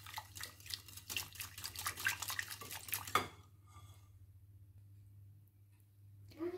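Dry banana pancake ingredients mixed in a bowl with a utensil, a steady run of scraping and clinking for about three seconds, ending in one sharp knock, then near silence with a low background hum.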